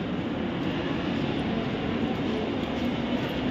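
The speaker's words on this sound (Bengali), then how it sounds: "আর এই দেখো ট্রেন যাচ্ছে।" A dense, steady rumble of a passing train in Visakhapatnam fills the clip, loud and continuous with no clear breaks.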